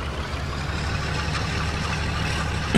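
A steady, loud, low diesel rumble from a V200 locomotive under throttle in Train Simulator 2016 on the Munich–Augsburg line, droning evenly throughout with a small bump at the very end.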